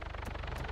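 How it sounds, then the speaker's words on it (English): Rapid, steady thudding of a helicopter's rotor blades in a video game, a brief continuous chop at moderate loudness. "where's that chopper? I hear it in my right ear."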